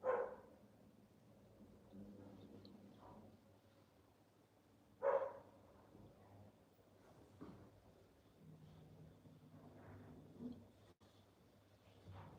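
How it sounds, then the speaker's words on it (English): Dogs at play bark faintly in the distance, with two short bursts spaced several seconds apart and quiet in between. "I think the dogs are playing."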